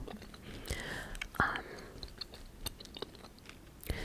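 Gum chewed close to the mic with soft, wet smacks and small clicks, heard beneath quiet whispering that runs throughout, plus occasional faint throat sounds.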